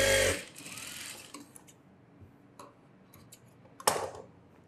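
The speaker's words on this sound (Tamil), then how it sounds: "ஷோல்டர் ஜாயின் பண்ணிவிட்டு நல்லா 2 தையல் போட்டுக்கோங்க." A sewing machine stitching the shoulder seam of a blouse, starting with a short, loud run of stitching, then falling to faint ticks and small clicks in a quiet room.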